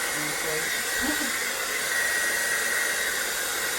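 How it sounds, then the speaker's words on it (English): A hair dryer blows hair with a steady, loud broadband whoosh that runs the whole time, and a few faint voice fragments sit underneath near the start. "it might be coming out of the blow dryer"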